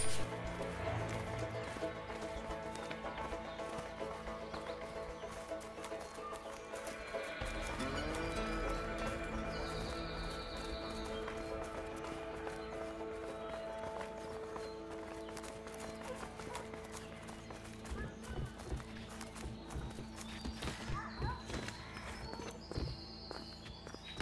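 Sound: horses running, from a video game

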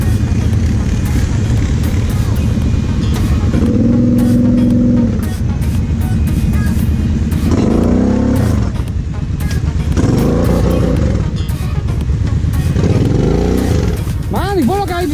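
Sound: Polaris 800R XXC quad driving off-road

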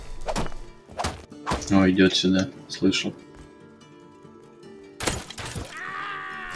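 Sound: hitting a stone wall with a pitchfork in the video game Rust

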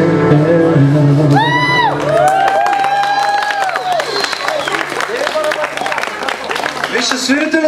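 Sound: audience applause for a band

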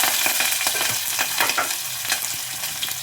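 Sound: chana dal frying in a pan

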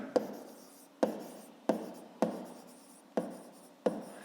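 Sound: writing a math solution by hand

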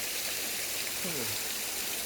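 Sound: waterfall

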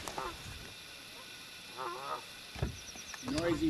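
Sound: noisy birds honking, geese

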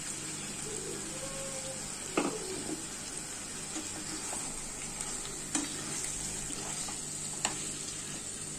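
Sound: marinated chicken frying and stirring with spices

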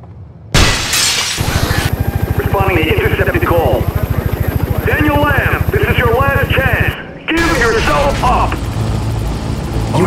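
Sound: helicopter flying overhead in the video game Manhunt 2

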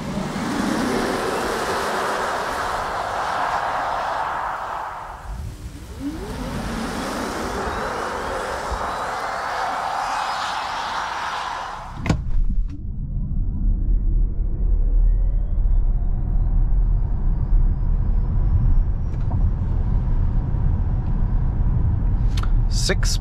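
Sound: Skoda Enyaq RS Coupe electric car accelerating on Autobahn

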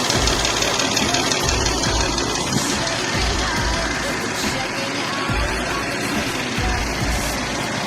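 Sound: car engine running roughly, faulty

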